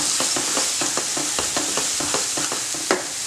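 Masala roasting in a pan for an aloo pyaz sabzi. Steady sizzling runs under a quick, regular series of spatula scrapes, close and unaccompanied by speech.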